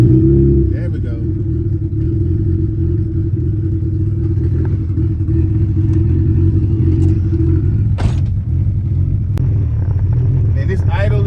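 A Honda Civic EF engine idles on a fresh base map, a loud, close, rough rumble holding steady throughout, while a few faint clicks and knocks sound over it.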